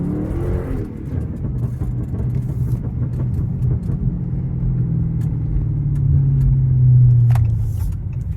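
Chrysler 300 on worn tires accelerating: a close, continuous engine rumble and whir inside the car that swells and rises in pitch toward the end, with no talk.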